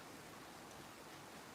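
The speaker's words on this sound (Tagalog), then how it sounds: "Yan, umuulan na naman." Steady rain falling on a rainy night, a soft even hiss with no distinct drops, faint and continuous throughout.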